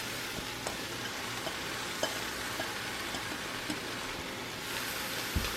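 Vegetables sizzle in a pot for vegetable soup, a dense, steady frying hiss running throughout at moderate loudness, with a few faint clicks of stirring and no voices.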